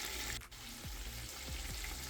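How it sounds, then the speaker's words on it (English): Striped bass deep frying in super hot oil gives off a steady, faint hiss and sizzle, broken by a few soft low bubbling pops with no talking. "the fish is gonna fry up in super hot oil"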